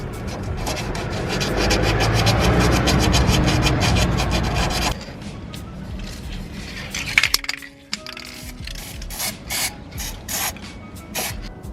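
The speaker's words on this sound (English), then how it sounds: "I'm going to try and clean that up as well with a little bit of sandpaper" Sandpaper rasps hard and fast against surface rust on the rear exhaust pipe of a Ford Fiesta for about five seconds, followed by lighter, intermittent scrubbing strokes and a few small metallic clinks close by.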